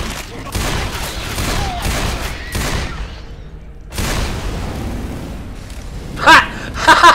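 A huge gun in the video game Left 4 Dead 2 fires a series of loud, booming shots at irregular intervals, each with a long decaying tail, followed by a few sharper metallic clicks near the end.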